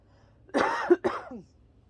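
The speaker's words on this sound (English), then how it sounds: "I'm going to cough because I have a tickle in my throat." A single throaty cough in two quick bursts, close and fairly loud, surrounded by quiet.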